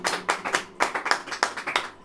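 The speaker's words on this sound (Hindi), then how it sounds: "ताली बजाइए।" Hands clap in a quick, steady rhythm from a congregation during a Hindi-language sermon, sharp and fairly close, with no talking over it.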